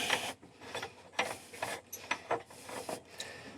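Someone turns a Boston Whaler seacock strainer lid loose by hand after it was freed with a spanner wrench. Close, quiet bursts of scraping and clicking repeat in quick uneven strokes, with no talking.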